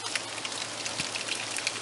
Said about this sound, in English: we're seeing some light rain, and at times medium to heavy rain.